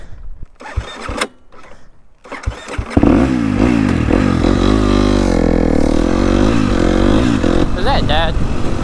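A two-stroke dirt bike engine runs close by, a steady loud buzzing drone with wavering pitch as the throttle shifts, after a few seconds of scattered knocks and rustling.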